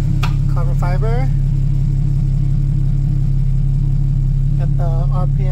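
Porsche Cayman 987 engine on a short test drive, with a steady, loud low rumble throughout. Someone talks over the engine noise at the start and again near the end.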